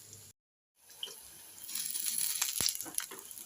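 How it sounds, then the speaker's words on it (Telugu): Paneer kofta balls fry on a slow flame, giving a soft, crackling sizzle that starts after a brief silence and rises into a steady hiss. "స్లో ఫ్లేమ్లో ఫ్రై చేయండి."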